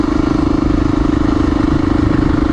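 Honda XR400R kickstart dirt bike on a forest service road, its single-cylinder engine chugging in a steady mid-pitched drone, close and loud, with no talk over it.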